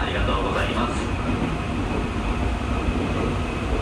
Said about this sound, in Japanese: 列車は先ほど伊豆浅川駅通過しまして、もうじき伊豆北川駅通過することかと思います